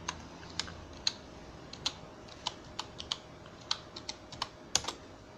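Irregular clicks of a computer keyboard as a username and password are typed, over a dozen crisp, fairly close keystrokes at uneven spacing against a quiet room hum, with no talking.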